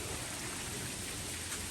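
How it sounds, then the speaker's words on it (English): Heavy rain pours steadily during a storm, water gushing from overflowing gutters in a dense, constant hiss with no pauses, close and loud, and no voices. "That's how much rain there is. Do you see that coming out of the gutters?"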